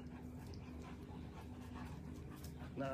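A large Great Dane pants steadily and softly, quick rhythmic breaths that run on evenly throughout with a faint whimper-like tone underneath and a slight bump at the end.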